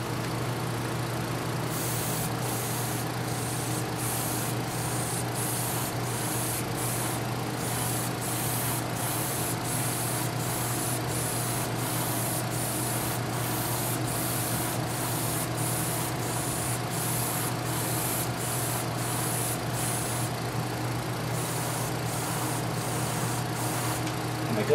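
A model P-51 Mustang airplane is spray painted with an air compressor-fed spray gun, the hissing spray bursts pulsing in regular on-off strokes over a steady drone of a running fan, air conditioner and compressor.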